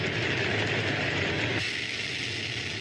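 A hydrogen-oxygen rocket engine firing: a loud, dense, continuous roar that holds steady throughout, shifting slightly in tone partway through, with no voices.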